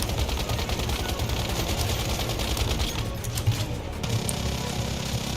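Dense, sustained automatic AK rifle fire rattles on nonstop in a video game, loud and close, with a brief dip in intensity near the end before the burst resumes.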